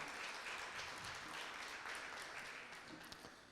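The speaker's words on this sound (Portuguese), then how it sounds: "Salva de palmas para o Daniel também." A seated youth audience at a talk session gives a round of applause, a faint but sustained wash of many hands clapping that tapers slightly toward the end.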